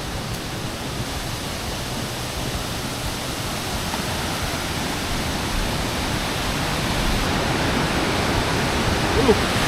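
Steady, loud roar of a waterfall in a canyon gorge in Guangdong, China, a partly artificial fall, forming continuous broadband rushing water that swells slightly louder toward the end with no clear voices.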